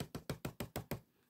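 Seven quick, crisp knocks imitating a rabbit thumping its foot, in a steady rhythm, close and fairly loud, then the sound stops and leaves near silence.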